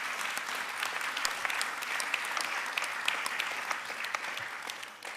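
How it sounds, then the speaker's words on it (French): An audience at a conference plenary session claps steadily, a dense, sustained round of applause that stays even in loudness throughout, with no speech over it. "Et on peut applaudir Gilles, évidemment."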